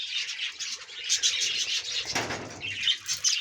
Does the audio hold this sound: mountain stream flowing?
no